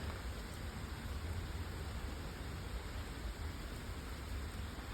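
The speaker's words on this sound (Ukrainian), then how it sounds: "А в нас дощик, тихий-тихий дощик." Quiet summer rain, a soft steady hiss of drizzle falling evenly and faintly, with no voices or other sounds.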